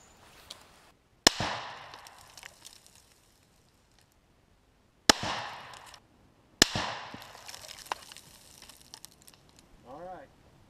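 A Remington 700 SPS rifle fires 165-grain Sierra SBT bullets in three loud, sharp shots spaced a few seconds apart, each followed by a fading echo, with quiet between them.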